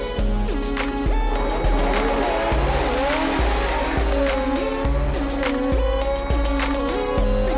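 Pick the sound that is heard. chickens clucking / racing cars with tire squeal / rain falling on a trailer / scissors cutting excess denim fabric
racing cars with tire squeal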